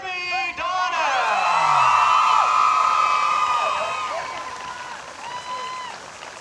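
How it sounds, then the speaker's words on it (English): A crowd cheers and applauds for the 2021 homecoming king and queen at a Piedmont homecoming event, sustained clapping and whoops under a loud announcer-style voice with ringing, echoing tones. "one more big round of applause for your 2021 homecoming King and Queen"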